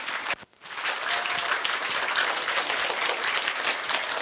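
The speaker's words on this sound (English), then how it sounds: "give them a big round of applause" Steady applause from an audience at a DARE graduation ceremony, many hands clapping densely and evenly after a brief dip near the start, with no talk over it.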